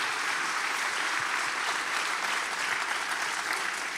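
Church congregation applauding during a sermon, a steady, even wash of many hands clapping that holds at a constant level for the full few seconds, moderately distant and without speech over it.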